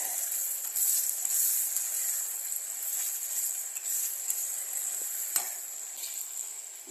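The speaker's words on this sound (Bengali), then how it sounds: "দেখো মশলাটা কেমন করে ভেজে নিচ্ছি আমি" Spice paste sizzles steadily in hot mustard oil for a rohu fish curry, a continuous close, bright hiss with small crackles and occasional stirring, no voices.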